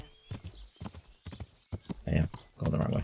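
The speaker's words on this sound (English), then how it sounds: "It's a horse." Horse hooves clip-clop in Kingdom Come: Deliverance, a rhythmic series of close, moderately loud hoof strikes with someone talking over them.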